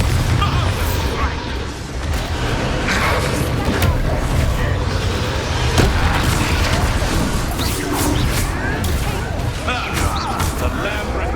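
A Bombarda blasting spell in Hogwarts Legacy erupts in a continuous run of loud booming crashes and bursts, dense battle noise throughout with game voices mixed in.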